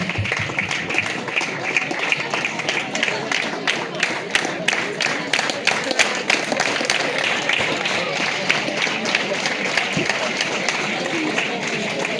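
Audience at a school farewell program in Doti clapping in a dense, steady stream of crisp claps with scattered louder hits, under a noisy crowd and some talking.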